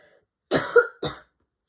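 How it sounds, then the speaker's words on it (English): Two quick coughs, close and fairly loud, the first a bit longer and rougher than the second, with silence around them. "why do I keep coughing?"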